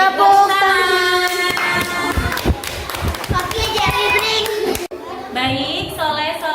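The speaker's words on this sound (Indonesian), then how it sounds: "Oke, tepuk tangan." Children clap together in a classroom, a short burst of scattered hand claps and thumps amid lively kids' voices and an adult talking.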